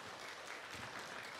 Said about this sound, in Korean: 그래서 한번 격려하면서 박수해 주셔야 하는데,